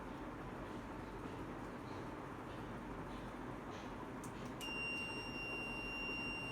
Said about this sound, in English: One is a buzzer which goes like